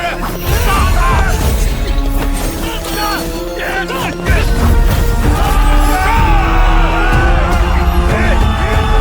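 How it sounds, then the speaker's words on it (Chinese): Agonized screaming and yelling in a xianxia fantasy drama fight scene, loud and continuous, mixed with crashing, smashing impacts and dense background music. "是有人在惨叫"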